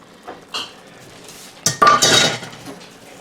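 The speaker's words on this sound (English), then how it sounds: "the leftover broth that the vegetables were cooked in, are going to be strained in here" Leftover vegetable cooking broth is strained into a pot, with sharp metal clanks and clinks of a strainer and cookware, a few scattered knocks first, then a louder cluster of ringing metallic hits close by.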